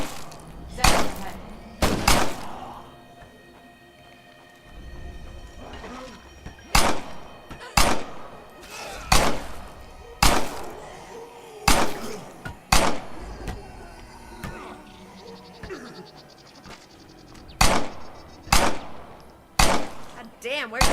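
Gunfire in the survival game State of Decay: loud single shots crack out about every second or two over a low background rumble, some clustered in quick pairs.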